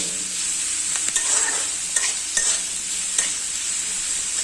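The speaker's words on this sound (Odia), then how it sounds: "ତାର ପିଆଜ ଭଜା ସିଝିଲା।" Onions frying with salt in a pan, a steady close sizzle with a few faint stirring scrapes and clicks, no talking.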